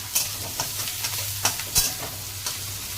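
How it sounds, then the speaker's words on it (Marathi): Onions fry in a pan until reddish under a continuous hiss of sizzling oil, with occasional close scrapes and clicks of a spatula turning them. "कांदा छान लालसर वेळपर्यंत परतून घ्यायचा"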